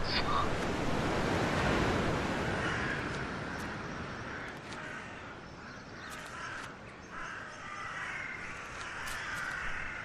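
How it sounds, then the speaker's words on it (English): Continuous surf roars and washes in broad swells in a video game scene, with wind noise and occasional faint bird calls above it. "Okay, I hear the sea."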